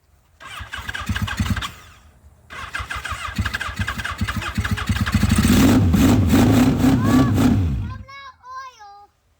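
An old car engine cranks in two short bursts, then catches and runs, revving loudly before cutting off; brief voices are heard near the end.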